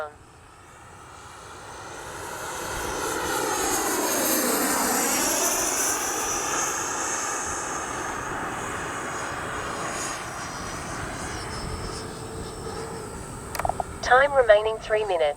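A Freewing 90mm T-45 radio-controlled jet with an electric ducted fan flies past in the evening. Its whine rises, peaks with a Doppler sweep, then fades into a distant drone, and an automated voice callout chirps near the end.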